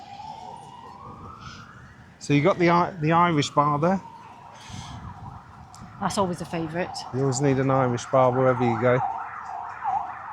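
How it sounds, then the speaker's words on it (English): A siren wails steadily in the distance in Torquay, Devon, rising and holding its pitch, while someone talks over it nearby. "I don't know if you can hear the sirens going off there."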